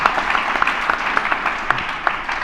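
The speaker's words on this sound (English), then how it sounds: "Can I get an applause for that?" Audience applause at a glass-art panel discussion, a steady wash of clapping from a seated crowd with individual sharp claps popping out, moderately loud and continuous for a couple of seconds.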